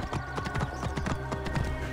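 Horse hooves clip-clop at a brisk, regular trot in Assassin's Creed Origins, loud and close, alone without talk.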